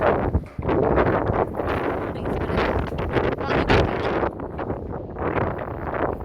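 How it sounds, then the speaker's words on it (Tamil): A sea breeze at Marina Beach rushes and buffets a microphone, loud and steady with gusty swells and no voices. "சூப்பராக வந்து பீச் காற்று வாங்கிக்கிறேன்"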